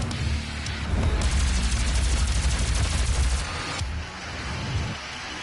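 Rapid, sustained plasma rifle fire in the first-person shooter DOOM (2016), a dense continuous energy-weapon barrage with loud low booms underneath, easing off briefly near the end.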